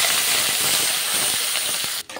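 Crushed ginger frying in hot oil in a kadai, a dense continuous sizzling hiss with faint scrapes of stirring, close and steady before cutting off abruptly at the end.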